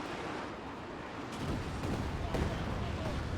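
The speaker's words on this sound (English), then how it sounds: "Another Panzerwerfer barrage." A Panzerwerfer rocket artillery barrage in Company of Heroes 2 swells into a dense, rumbling roar of overlapping blasts that builds midway and keeps rolling, loud and continuous, with battlefield noise filling the background.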